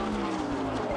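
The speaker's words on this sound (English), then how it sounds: "Bobby Allison with a horrible crash here on the front stretch." Bobby Allison's NASCAR race car crashes on the front stretch, tearing out a section of protective railing: one second of loud, steady engine roar with a harsh tire skid.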